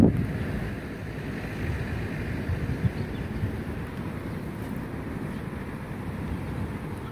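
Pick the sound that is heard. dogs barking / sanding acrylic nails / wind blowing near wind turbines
wind blowing near wind turbines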